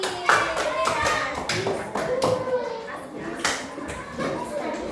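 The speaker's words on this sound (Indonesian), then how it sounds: "tepuk tangan untuk Rani" A classroom of children claps for a classmate, a brief burst of quick scattered hand claps with a voice and chatter mixed in, fairly close.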